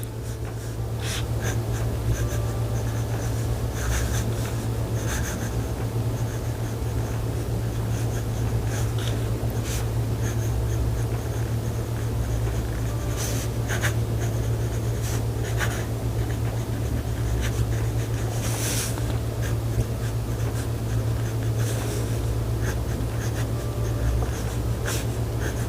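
A Jinhao 9019 fountain pen with its stock nib scratches across paper in close, continuous strokes, with faint scratchy ticks over a steady low hum and no talking.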